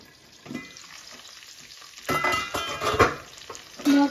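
Potatoes fry in a pan and are stirred: a soft sizzle at first, then louder scraping, clattering stirs and bursts of crackling oil near the end, with no talk.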